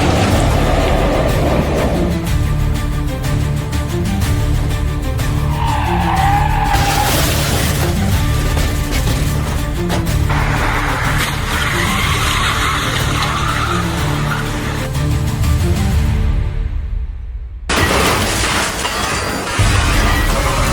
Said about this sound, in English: the car fell from the overpass